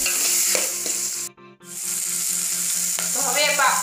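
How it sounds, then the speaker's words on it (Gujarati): Potatoes fry in a pan with a loud, steady sizzle and crackle, briefly cut off mid-clip and then resuming, with some stirring noises close up. "બટાકાને થોડી વાર આપણે ચડવા દઈશું"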